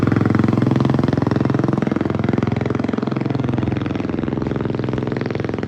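Two motorcycles, one a Bullet ridden on a single tyre, pass close by with a loud, steady engine drone and rapid pulsing throb that holds for the whole stretch.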